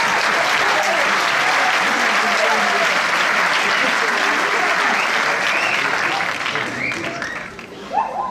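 Sustained applause from a large audience at a high school graduation ceremony, loud and dense clapping that tapers off slightly near the end.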